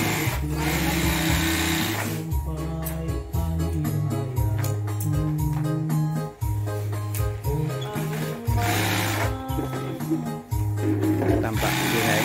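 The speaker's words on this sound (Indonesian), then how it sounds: "Tampak lihai menjahit, kencang sekali." An industrial sewing machine stitches Daihatsu Taruna car seat upholstery in fast, loud, steady bursts of rapid needle chatter, pausing briefly between runs.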